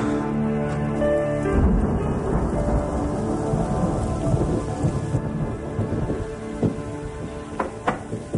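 A thunderstorm with steady heavy rain, deep rumbling thunder rolling through loudly from early on and continuing throughout, with sharper cracks near the end.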